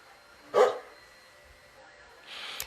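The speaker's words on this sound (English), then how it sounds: "If you hear barking in the background" A single dog bark sounds nearby, followed by quiet room tone and a faint rustle at the end.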